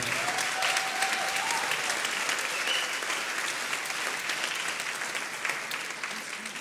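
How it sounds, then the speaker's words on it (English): Sustained applause fills a hall at a conference closing ceremony as organizers are thanked, a steady wash of many hands clapping with faint crowd murmur and a brief whistle-like tone early on. "An applause, please."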